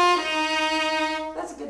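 Violin playing a bowed passage from Gypsy Waltz, one long sustained note held clearly, followed by a short change of note at the end.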